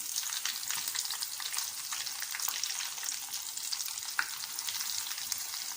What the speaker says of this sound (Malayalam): ഇനി നമുക്കിതൊന്ന് പൊരിച്ചെടുക്കാം